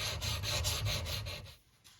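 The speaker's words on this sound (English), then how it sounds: "as we stone away this surface here, it should just all become even eventually across" A wood chisel rubbed back and forth on a sharpening stone, giving a steady rasping scrape in rhythmic strokes for about a second and a half before it eases off, close and fairly quiet.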